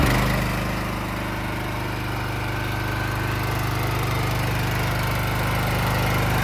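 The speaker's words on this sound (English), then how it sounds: "I'm gonna start this thing up for you" A 2019 BOSS Snowrator sidewalk machine's small engine runs steadily up close, a constant mower-like drone with a low, even rumble and no talking.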